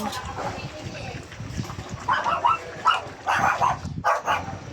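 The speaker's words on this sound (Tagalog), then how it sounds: "May aso pang maingay" A dog barks several times in short bursts nearby, mixed with someone talking and background kitchen noise.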